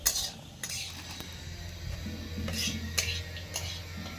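Grated coconut is fried over low heat and stirred in a pan, giving a soft sizzle under repeated scraping and clinks of a metal spoon against the pan, close and with no talking.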